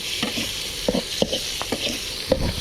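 Steady hiss of frying battered mole crab in a hot wok, with a spatula scraping and clacking as the food is tossed and stirred.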